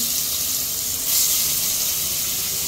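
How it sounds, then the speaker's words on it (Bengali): Fish sizzles steadily in hot oil in a pan, a dense, even hiss that swells slightly partway through and carries on without any voices. "তেলটা গরম হয়ে গেছে, কারণ মাছটি দিয়ে দিব। মাছটি দিয়ে নেওয়া যাচ্ছে ভাজি করার জন্য তেলের মধ্যে।"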